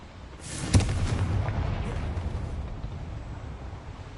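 A Confringo fire spell bursts in Hogwarts Legacy, a sharp booming crack with a rumbling blast tail that rolls on and fades over several seconds, no talking alongside.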